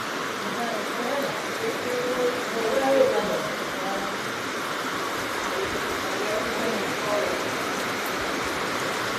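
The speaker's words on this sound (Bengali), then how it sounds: "এই দেখো দেখো বৃষ্টি হচ্ছে ঝমঝম ঝমঝম করে খুব জোরে বৃষ্টি এলো" Heavy rain pours down in a steady, dense hiss that holds for the whole stretch, with faint voices low in the background.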